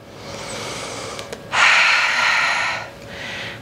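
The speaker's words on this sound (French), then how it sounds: "depuis les hanches, on inspire et on expire." Breathing in and out during a Pilates exercise: a loud, airy exhale of about a second and a half, close to the microphone, between quieter breaths and steady background hiss.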